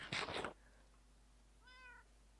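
A short burst of noise opens, then a single clear cat meow in the game Lucky Islands, faint and close, rising and falling in pitch near the end.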